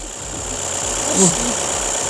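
A Skoda Octavia A8 idles with its bonnet open, a smooth, steady engine hum heard up close for a couple of seconds.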